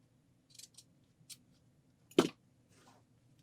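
Scissors snip through a piping cord while a pillow is being sewn, giving a few quiet snips followed by one sharper, louder cut nearby, with no talking.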